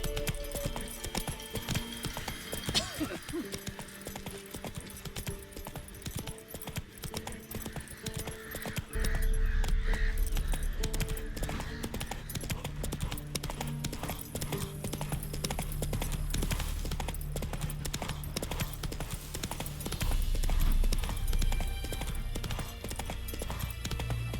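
Horse hooves clip-clopping in The Witcher 3: Wild Hunt while riding, a steady rhythmic clatter that grows louder partway through, layered over game ambience and music, with a brief snort or whinny.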